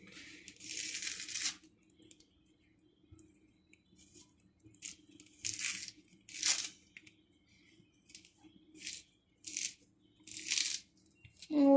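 Orange peel ripped off the fruit by hand after scoring, a series of separate moist tearing rips with quiet pauses between them, close and fairly crisp.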